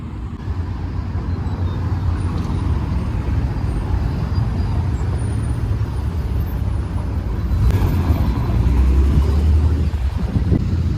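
A Ferrari Dino drives past on a Paris street, a low engine rumble building amid steady traffic noise and swelling louder toward the end as it nears.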